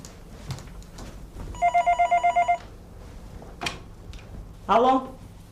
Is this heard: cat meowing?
no